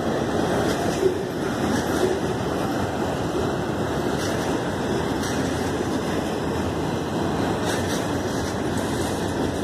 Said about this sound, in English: As soon as the train's done,